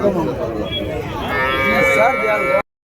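Native cattle at the Vaniyambadi cattle market in Tamil Nadu moo loudly and close, a long drawn-out low call rising in pitch midway, with other voices and market noise behind.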